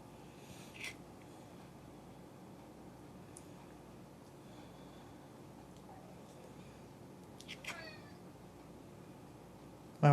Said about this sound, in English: my 35-pound cat who has decided that he wants attention at this very moment in time